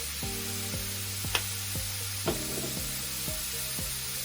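Mushroom cream risotto made with oatmeal sizzles in a pan over low heat: a steady, soft frying hiss runs throughout, with a couple of brief sharper clicks and faint tonal sounds underneath.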